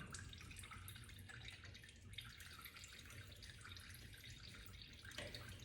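Coolant draining steadily from a car's removed bottom radiator hose during work on an overheating engine, a continuous trickling and splashing wash that holds at an even level throughout, with no talk.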